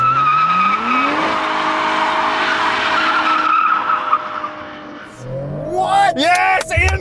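A 2024 Mercedes-AMG CLE53 doing a burnout, its engine note climbing loud and close as the tires squeal, then a short pause before sharp revving yelps; people talk over the noise.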